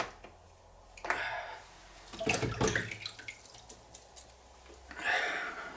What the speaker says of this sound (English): Let's put that one in the water.